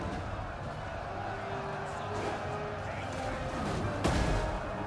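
Distant gunfire and artillery rumble through a battle in the strategy game Tides of War, with a dull, crowd-like din and a sharp crack near the end, under someone talking.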